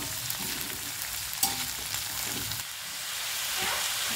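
Capsicum and cabbage strips stir-fried over a high flame for leftover-roti noodles give a steady, close frying hiss with faint scraping, and a brief sharper clatter near the middle.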